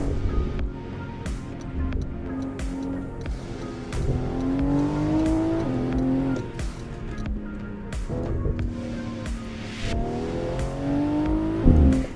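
A BMW in the PC racing game Assetto Corsa revs and accelerates through repeated upshifts. The steady engine whine rises in pitch, drops at each gear change, then climbs again, with a few faint clicks and no talking.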